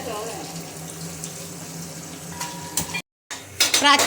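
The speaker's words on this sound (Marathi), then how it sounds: "ब्राऊन करून घेते कांदा आधी" Onions frying in a pan until brown, a steady sizzle with stirring and some clatter near the end, under faint background voices.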